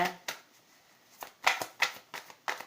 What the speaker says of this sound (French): on en tire une ou deux de plus pour terminer ce tirage